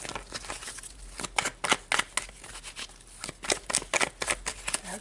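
Tarot cards shuffled by hand in a close, quiet indoor setting, giving a run of quick crisp riffles and snaps that come in bursts with short pauses between them.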